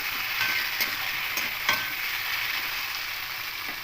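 Potato and ridge gourd pieces frying in a pan as they are stirred, a steady hiss of hot oil punctuated by several sharp scraping and clinking strokes, close by with no voices.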